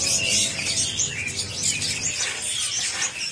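Young Javan pied starlings (jalak suren), captive-bred birds at Pramuka bird market, chirping in a dense, busy chorus of high tweets and calls that fills the whole stretch, close and fairly loud, with no talking.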